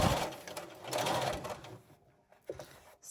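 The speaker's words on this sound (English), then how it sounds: "We're now going to stitch down the edge of the mask" A sewing machine stitches down the edge of a pleated fabric face mask, driving forwards and backwards in a steady, close whirring run that stops briefly near the end before a short final burst.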